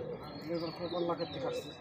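Pigeons coo at a pigeon market in a short, soft burble of calls, mixed with a murmur of nearby voices.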